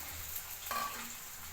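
Food fries in a small amount of oil in a pan, a soft steady sizzle with a short louder crackle and stir partway through, close and without talk.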